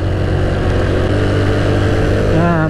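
A Honda Revo motorcycle roars loudly and steadily as it climbs uphill on a rainy mountain road at Malalak, its engine pitch rising toward the end.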